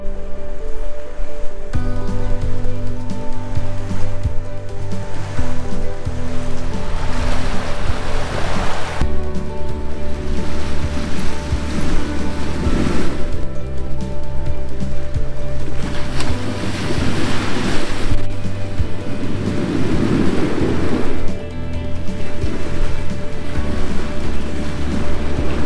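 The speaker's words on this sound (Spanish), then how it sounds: "Olas muy chidas" Ocean waves breaking along the Veracruz coast, a continuous loud wash of surf with rolling swells and wind buffeting the microphone, no voices.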